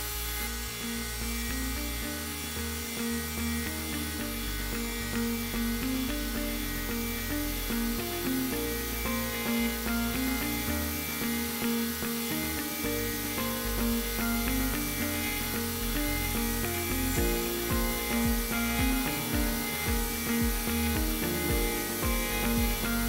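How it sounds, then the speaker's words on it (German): A CNC router mills the radius into an ebony bass guitar fretboard, a steady, grinding machine whine with shifting tones running continuously, loud and close with no voices. "Der Griffbrettradius wird nun am Ebenholzgriffbrett aufgefräst."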